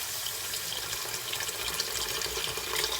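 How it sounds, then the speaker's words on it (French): Hot water runs from a kitchen tap into a pot for Moroccan couscous, a steady close-up rushing splash that holds for the whole stretch with no voices over it. "je prends 1 litre d'eau et je mets avec l'eau chaude"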